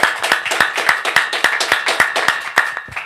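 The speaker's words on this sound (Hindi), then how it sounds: "फिर से परमेश्वर को धन्यवाद देंगे तालियों के साथ।" Rhythmic clapping from a church congregation giving thanks to God during a service, regular unison claps about three per second, close and crisp.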